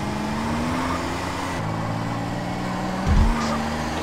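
A car engine in the video game GTA San Andreas droning at steady revs while drifting, with a pitch shift partway and a short low thump near the end.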